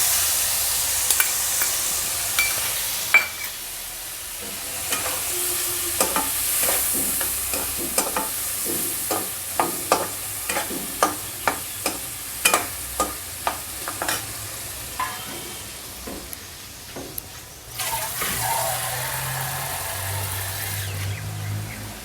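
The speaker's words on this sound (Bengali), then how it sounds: "এবার মশলাটা দিয়ে দেবো" Spice paste frying in a pan while being stirred, a sizzling bed under a long run of rhythmic scraping strokes of a spatula, close up, with a louder burst of sizzle near the end; no speech.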